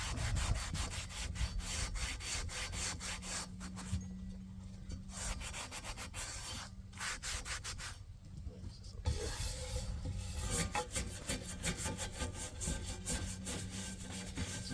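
Steady, close scrubbing of rusty cast iron being cleaned with vinegar, continuous rough rubbing strokes with a couple of brief pauses and no talk over it.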